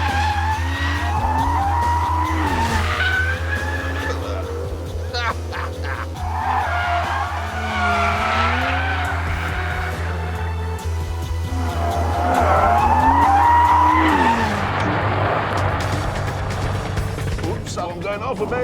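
Tyres on a rear-wheel-drive Lamborghini Urus skid and squeal in long wavering screeches over a steady engine drone, with someone talking throughout.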